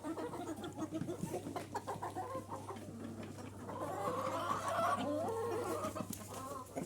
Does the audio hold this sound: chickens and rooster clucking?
yes